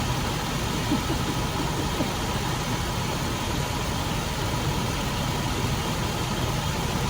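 A Toyota 4Runner engine idles with a steady low rumble, constant and unbroken for the whole stretch, fairly close by.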